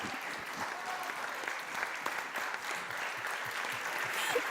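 Applause from a workshop audience, many hands clapping in an even, continuous patter, quiet and somewhat distant, with a faint murmur of voices underneath.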